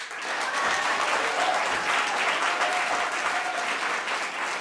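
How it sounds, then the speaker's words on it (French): Loud, dense applause from a large audience, many hands clapping steadily and continuously without a break. "je vous demande de faire encore un gros tonnerre d'applaudissements"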